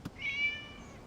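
A single short cat meow in Genshin Impact, clear and fairly quiet, rising then trailing off, after a faint soft tap.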